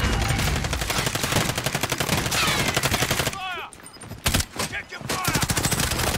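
Rapid bursts of automatic gunfire and single shots from a Warzone battle royale match, loud and continuous with a brief lull midway, then heavy firing resumes.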